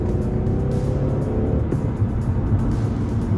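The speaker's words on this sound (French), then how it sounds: "allez vas-y accélère le camion" A truck engine accelerating on a motorway, a loud steady drone with broadband road rumble throughout, heard from close by with no talk.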